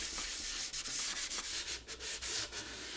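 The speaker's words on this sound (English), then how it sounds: "we need to sand her down hard" Sandpaper rubs hard over a shiny black-painted wooden apothecary cabinet in a close, quiet, continuous scratchy rasp, with rhythmic back-and-forth strokes and small gaps.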